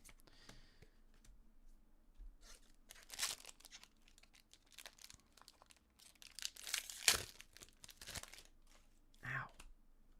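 The plastic wrapper of a Disney Lorcana card pack crinkles and tears in quiet, close bursts, with irregular sharp crackles scattered across the stretch.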